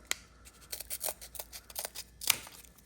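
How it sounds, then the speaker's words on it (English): A quick run of sharp snips from the small scissors of a Victorinox Swiss Army knife, several close crisp cuts in a row with a brighter one near the end, heard up close with no talking. "pair of scissors, right?"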